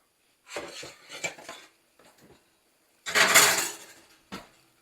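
Clanking pots and pans sound in a kitchen as food goes into Mama's big skillet, in a few short bursts of metal and cutlery clatter separated by brief pauses, with one louder clatter near the end.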